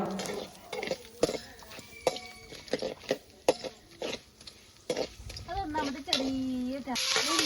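Mustard seeds and matta rice crackle and pop in hot coconut oil, a stream of sharp, irregular snaps beneath a voice talking close by.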